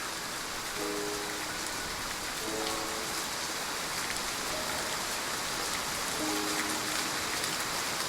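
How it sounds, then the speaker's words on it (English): Rain falls steadily on surfaces with a constant soft hiss and patter, moderately loud and unbroken, and faint tonal chimes sound briefly a few times in the background. "We'll leave once the rain stops."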